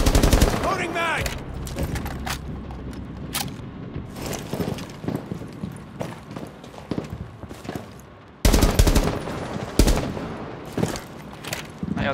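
Video game shootout with repeated bursts of automatic gunfire and sharp single shots, loud and close, spread across the whole stretch with brief pauses and a sudden heavy volley near the end.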